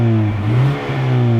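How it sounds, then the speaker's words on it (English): A Ford rally-style truck engine revs with a raspy tone, a steady mid-pitched drone that dips briefly and then climbs back up. "Once you start throwing your foot down on the throttle, it does give you a nice raspy tone"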